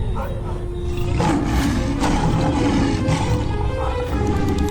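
A cartoon lion in a dense jungle lets out a loud, drawn-out roar that surges and swells across several seconds, close and dramatic, with faint voices mixed underneath.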